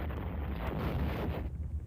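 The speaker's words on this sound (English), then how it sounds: "an explosion ripped into Long Anka's Panther." A blast tears into a German Panther tank during a WWII tank duel at Saint-Sever, heard as a loud, sustained rumbling roar with heavy low-end crackle and no voices.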